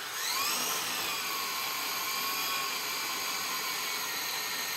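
High-pitched whine of a Hubsan X4 H502e quadcopter's small motors spinning under throttle, one motor laboring slower than the others, a continuous close buzzing drone that rises slightly at the start, alone.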